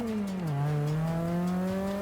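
A Forza Motorsport 6 race car engine holds a steady, loud drone, dipping briefly as the driver lifts off and then climbing smoothly in pitch as it revs back up.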